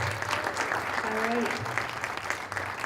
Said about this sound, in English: for our panelists here tonight, and thank you for your participation, one quick more round of applause